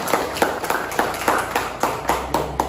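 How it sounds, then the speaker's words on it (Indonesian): Students in a classroom clap their hands together in a steady, evenly spaced beat, about three or four claps a second, fairly close and moderately loud, with no talking over it. "tepuk tangan untuk semuanya"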